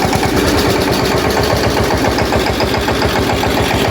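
A tractor engine idles close and loud, a steady rapid low chugging throb with a rough mechanical rattle and no talk.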